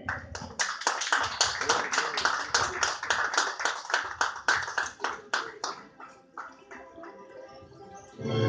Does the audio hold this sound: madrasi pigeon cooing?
no